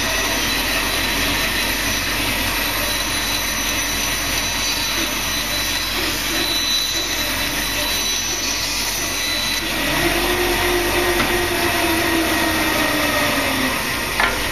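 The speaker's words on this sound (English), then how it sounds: "Now what I'm going to go and do is I'm going to cut that out in the bandsaw." A bandsaw cuts freehand through wood in a workshop, a steady loud whining machine drone that runs unbroken throughout, with a slight rise in pitch and load partway through as the blade bites into the material.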